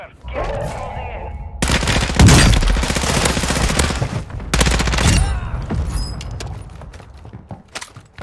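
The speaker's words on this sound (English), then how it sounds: "Hostile, launch the mortar strike." Mortar strike in Call of Duty Warzone Resurgence on Vondel, heavy explosions and rattling gunfire crashing in bursts after a quiet opening, loud and close, then tapering off with scattered lighter impacts.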